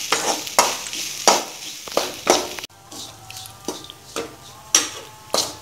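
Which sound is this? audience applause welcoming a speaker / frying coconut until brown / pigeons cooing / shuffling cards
frying coconut until brown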